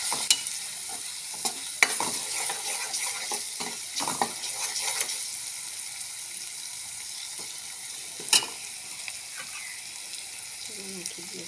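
Chole masala spices roasting in a pan, a steady close sizzle with scattered scraping stirs and one sharp clink of a utensil partway through; no talking.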